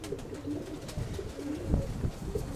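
A prized female pigeon, in her third year, coos softly inside a home dovecote, with low repeated coos close by and no voices over them.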